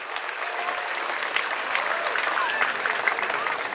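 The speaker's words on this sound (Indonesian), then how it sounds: "Tepuk tangan untuk acara kita ini." Audience applause at the opening ceremony of the Bali Arts Festival 2022, a sustained crowd of clapping hands that swells slightly midway, with faint voices and whistle-like cries mixed in.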